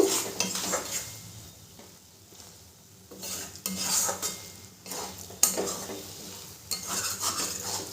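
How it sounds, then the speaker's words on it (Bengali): A spatula stirs and scrapes banana flower curry (mochar ghonto) in a pan, with soft rhythmic scraping and clinks against the metal, faint sizzling underneath, and a few louder knocks in quick bursts. "খুন্তি দিয়ে খুব ভালো করে আমি নেড়ে নেব"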